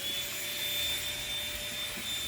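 A vacuum cleaner sucks up paper with a steady, loud whining drone and a high tonal hum, running continuously without pause and close by.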